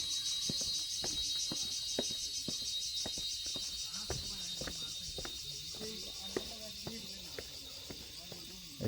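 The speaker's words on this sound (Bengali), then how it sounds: "ঝিঝি পোকা ডাকতেছে।" Crickets chirping in a quiet wooded spot on the way to Alutila cave in Khagrachari, a steady high buzzing drone under irregular crunchy footsteps and faint voices.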